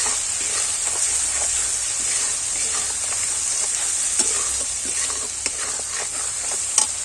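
Spices with turmeric and chilli powder stirred as they fry in a pan, a steady close sizzle with soft scraping strokes throughout and no voices.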